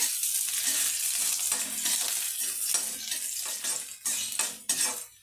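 Green chili and onion frying lightly in a pan while greens are being cooked, a steady crackling sizzle with scattered clinks of a utensil stirring against the pan.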